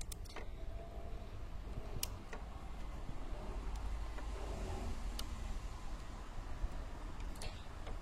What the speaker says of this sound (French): Je m'en excuse encore une fois pour le bruit des voitures.